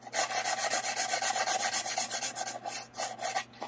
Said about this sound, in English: Got the edge sanded down.